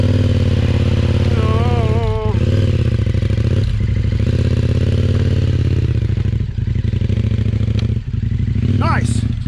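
A KTM 1090 motorcycle riding off-road on rough ground, its engine loud and close as it revs and strains when stuck, with a steady throb and occasional clatter and brief voices.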